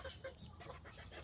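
Red junglefowl chickens clucking on a rural farm, faint and distant, a few soft clucks over steady background hiss.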